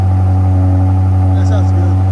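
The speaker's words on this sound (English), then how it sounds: "First cold start. It should be in sport mode, which means the valve should be open." A BMW M5 with a 4.4-litre twin-turbo V8 and a resonator-delete exhaust runs on a cold start, giving a loud, steady, deep engine drone with a strong low hum throughout and a faint brief sound near the middle.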